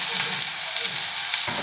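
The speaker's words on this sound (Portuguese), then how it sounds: "dar uma torradinha nesse tempero de alho" Leftover kale and beans fry in a garlic seasoning with a loud, dense, continuous sizzle close up, and a stirring scrape breaks in near the end.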